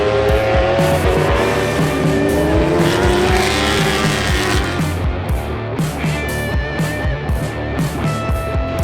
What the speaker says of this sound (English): That's going to probably help Kyle maybe try to draft this Suzuki as they head down this back straightaway.